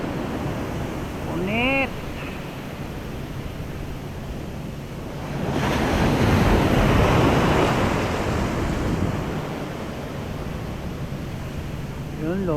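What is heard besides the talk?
strong ocean waves on the shore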